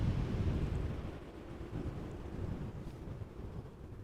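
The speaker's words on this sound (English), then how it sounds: "The wind has not slowed down." Strong wind blowing outdoors at Amsterdam Schiphol Airport, a steady loud low rumble of gusts buffeting the microphone for the whole stretch, with no voices.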